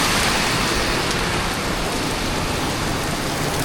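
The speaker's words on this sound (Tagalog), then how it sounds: "Grabe yung ulan, no?" Heavy rain pours steadily outside a small secondhand clothing shop, a dense, continuous hiss at constant loudness with no talking.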